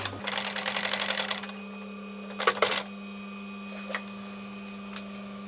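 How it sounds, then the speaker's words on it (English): A sewing machine runs a test seam on a practice piece for diamond-stitched camper cushions, a close mechanical whirring burst lasting over a second, then a shorter run, followed by faint clicks over a steady low hum. "So I just want to make sure that the tension is fine on the machine and the stitches are the right size."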